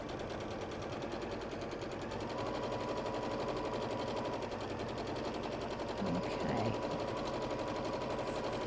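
A sewing machine runs a long stitch in a rapid, steady rattling hum up close, with a voice speaking briefly toward the end.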